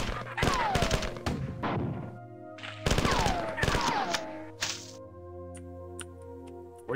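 Gunfire in the Marathon video game: bursts of sharp, loud shots in rapid clusters, followed by ringing tones and scattered fainter clicks and pops.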